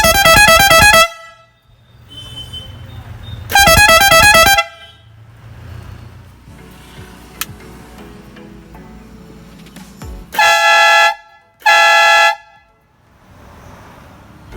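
Hella pressure horns fitted to a vehicle blast in four long, very loud, harmonically rich bursts, two early and two late, separated by quieter stretches of engine idle and faint clicking.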